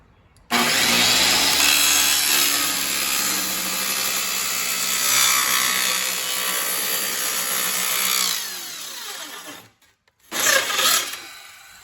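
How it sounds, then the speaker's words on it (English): A circular saw whines loudly and steadily through plywood for about eight seconds, winds down, then gives a brief second burst after a short pause. "cut it to size with a skill saw"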